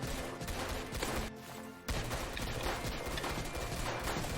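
Rapid sniper rifle shots and gunfire in the Roblox game Zombie Attack, a dense, loud barrage running almost continuously with a brief lull in the middle.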